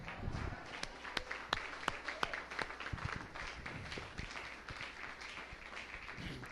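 Church congregation clapping at a worship service, a steady wash of many hands with sharper individual claps standing out, sustained for several seconds.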